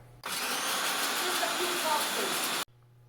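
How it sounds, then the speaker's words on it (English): A food processor whirs steadily for about two and a half seconds as it pulverizes dry porcini mushrooms, a loud continuous grinding that starts and stops abruptly. "we're going to pulverize them in a food processor"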